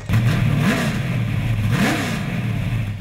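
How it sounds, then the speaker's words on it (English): A race car engine at a speedway revs loudly and close, rising and falling twice in pitch over a steady rumbling drone. "the sound of that engine revving is the sweetest tune"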